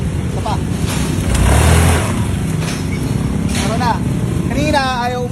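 A Honda Click scooter with a rough, knocking engine is revved hard at full throttle, its loud broadband roar swelling near the middle and holding steady, with a few chirpy squeals and a voice talking briefly over it.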